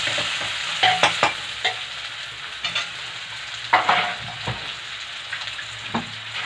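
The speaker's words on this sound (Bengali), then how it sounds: "এগুলো আমি মশলা, গোশ, ডাল, রসুন সব একসাথে দিয়ে নেব।" Meat, spices, dal and garlic fry together in a pan under a steady sizzle, while a spoon stirs them in quick scraping strokes that come in irregular bursts, close and fairly loud.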